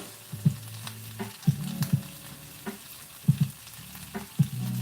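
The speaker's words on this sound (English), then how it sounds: "we got our butter in the pan" Butter sizzling in a pan before a Sunday dinner of Philly cheesesteak sliders, a steady low crackle broken by several sharp knocks and scrapes from utensils against the pan.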